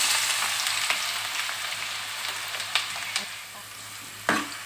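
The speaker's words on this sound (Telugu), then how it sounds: "ఆనియన్స్ బాగా వేయించుకోవాలి, గోల్డెన్ బ్రౌన్ వచ్చేలాగా" Onions frying in hot oil in a pan for a chicken curry, a steady close crackling sizzle with a few sharper pops and stirring clicks, no voices.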